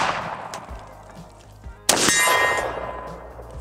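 A single loud shot from an SVD Dragunov sniper rifle fired through a scope, a sharp blast with a metallic clang and a ringing tail after a quiet lead-in.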